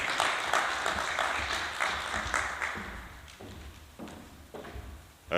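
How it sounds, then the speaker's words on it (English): Audience at a social media influencers conference applauds a speaker, a dense wash of clapping that starts full and gradually thins and fades, with a few sharper claps near the end. "Let's give him a huge round of applause."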